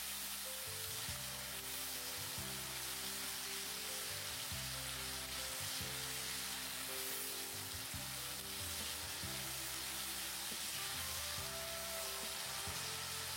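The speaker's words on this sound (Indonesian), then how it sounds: "Digoreng, digongsreng-gongsreng sampai semuanya matang." Sambal ingredients with kencur frying in a pan give off a steady, dense sizzle throughout, with the rhythmic scrape and clatter of stirring and no voices.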